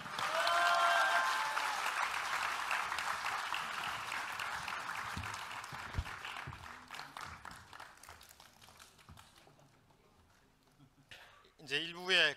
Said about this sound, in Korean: 네, 큰 박수로 자리로 모시겠습니다.